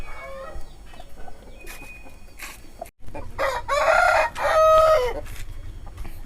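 Fighting roosters for sale at a market in Ongole crow loudly and repeatedly, with long drawn-out calls close by. Softer clucks and general farmyard noise fill the gaps between crows.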